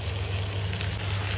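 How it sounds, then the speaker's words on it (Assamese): Boiled silkworm pupae fry with onions in a hot pan, making a loud, dense, continuous sizzle with a steady low hum underneath, close and unbroken for just over a second. "এয়া এতিয়া লেটাখিনি দি দিছোঁ ইয়াতে পিঁয়াজখিনিত"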